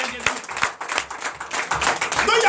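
Church congregation at a Sunday service in Comè, Benin clapping in acclamation, rapid hand claps in a lively rhythm mixed with voices and a low rhythmic thump, fairly close.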